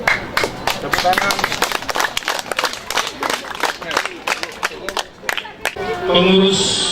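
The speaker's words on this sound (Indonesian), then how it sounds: "Tepuk tangan." An audience applauding at a groundbreaking ceremony for an Adventist school, with sustained, fairly loud clapping from a crowd that fades near the end as a voice begins speaking.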